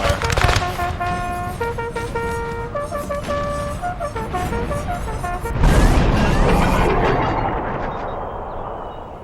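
Musket volleys and artillery in a Napoleon Total War Civil War battle at Antietam's Burnside Bridge: scattered cracks and thuds beneath orchestral music, with a heavier blast roughly midway.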